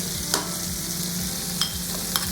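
Onions sautéing in a pan after tomatoes have softened, cooking for a Bicol Express with ampalaya, give a steady sizzle with a few sharp stirring clicks and scrapes.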